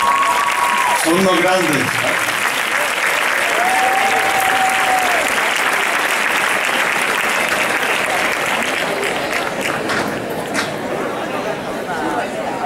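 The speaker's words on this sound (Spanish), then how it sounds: "Y ahora me gustaría una especial ovación para la última fila, por favor, que se levante." A sustained ovation at a graduation ceremony, with loud continuous clapping from the crowd while someone speaks briefly near the start and voices chatter underneath.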